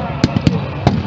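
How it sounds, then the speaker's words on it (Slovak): Explosions boom in the distance at a wartime battle reenactment during an air show, with several sharp thuds spaced irregularly over steady crowd and engine noise while a commentator speaks. "Vidíte vzadu výbuchy,"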